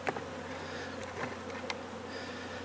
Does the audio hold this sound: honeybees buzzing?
yes